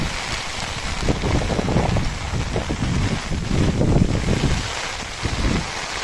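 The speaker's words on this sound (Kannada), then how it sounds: "ತುಂಬ ಗಾಳಿ ಮಳೆ ಬೆಳಿಗ್ಗೆನೂ ಇದೆ" Heavy monsoon wind and rain at the flooded Bhagamandala temple in Karnataka, a steady loud roar of gusting wind and pouring rain with rushing water, continuous throughout with no talking.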